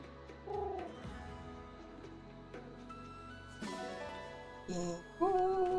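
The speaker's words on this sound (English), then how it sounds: "it's a pigeon." A pigeon in the video game Fire Emblem Engage coos in a few short, soft calls spread through the clip, heard over background game music, with no talking.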